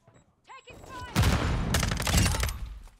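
Bursts of automatic gunfire from a Modern Warfare 2 multiplayer match, with a brief muffled sound first and then sustained, loud rapid shooting.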